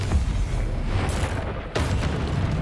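Confringo spell blast in Hogwarts Legacy, a loud fiery explosion rumbling continuously with a sharp second burst midway, dense low-end roar throughout.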